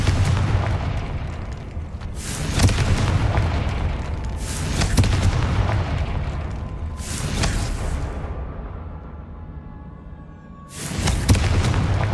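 Confringo blasting-spell explosions in a video game: several heavy booming bursts, spaced a few seconds apart, over a steady low rumble, with no voices.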